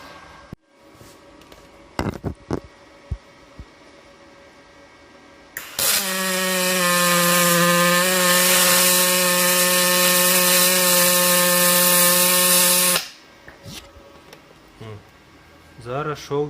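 Magnum MIG 222 LCD Dual Puls Synergy semi-automatic MIG welder running a steady arc for about seven seconds, a loud continuous buzzing hiss with a strong hum, framed by quieter clicks and handling noise before and after.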